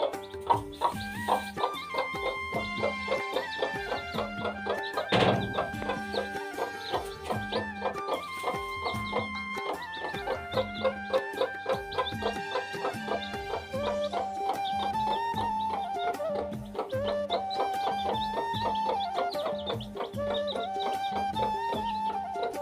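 A village hen and her chicks cluck and peep continuously at close range, with rhythmic clucks and a sharp louder call partway through, no talk.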